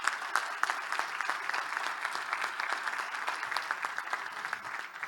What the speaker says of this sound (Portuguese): uma salva de palmas para o Vítor Sousa